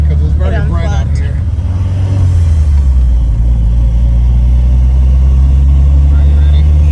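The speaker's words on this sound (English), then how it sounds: "we're gonna run it through some gears" Engine of a 2021 Starquest on a test drive accelerating through the gears, a loud steady low rumble that shifts and climbs after a couple of seconds, with people talking over it early on.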